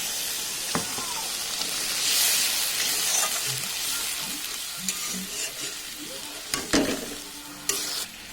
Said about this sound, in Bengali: এই মশলার মধ্যে দিয়ে দিচ্ছি সামান্য পরিমাণ জল।